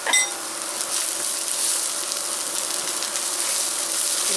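Onion and dried chili paste sizzle loudly and steadily in a clay pot, a dense frying hiss with a brief stir at the start.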